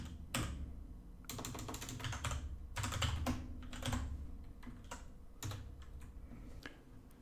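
Code typed on a computer keyboard in an IntelliJ IDEA session: close, quick bursts of key clicks separated by short pauses, with no voice.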